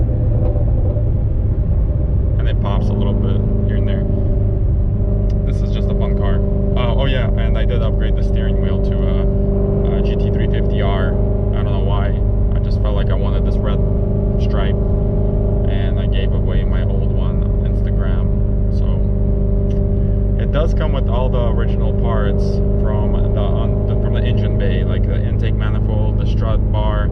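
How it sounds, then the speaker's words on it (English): Whipple supercharged Shelby GT350 making 950 horsepower, idling with the exhaust in sport mode: a steady, deep, close rumble that drones on throughout while a person talks over it. "I'm gonna put it in sport mode real quick. It opens up the exhaust a little bit more."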